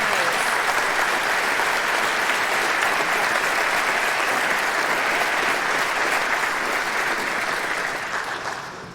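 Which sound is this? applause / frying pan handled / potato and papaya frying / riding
applause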